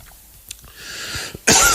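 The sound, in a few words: cough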